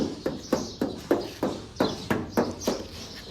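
Knuckles knocking repeatedly on a painted Toyota Hiace van body panel, about a dozen hollow, evenly spaced metallic raps close by, with no talking.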